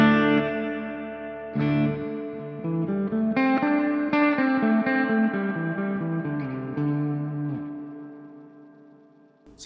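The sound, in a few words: guitar with spring reverb pedal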